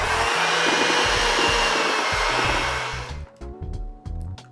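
An electric mixer runs at a steady, loud whir while blending Christmas cookie dough with flour, baking soda and salt, then stops and restarts in short bursts near the end.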